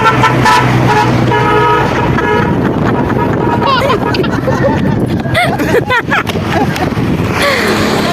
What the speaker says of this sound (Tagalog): At nakakatuwa na may ganitong umuusong busina.